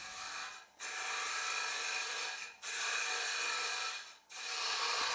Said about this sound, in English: We have now changed to the titanium nitride coated mushroom cutter to hollow the inside of the bowl.